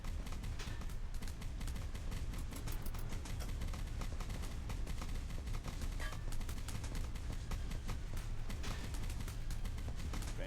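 Dense, continuous video game gunfire from enemy gun batteries in a WWII naval battle with a Higgins boat, a steady roar of overlapping shots and explosions filling the whole stretch without pause.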